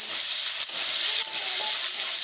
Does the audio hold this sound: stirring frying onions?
yes